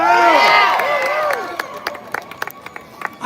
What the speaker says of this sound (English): give me a hand clap and a cheer for freedom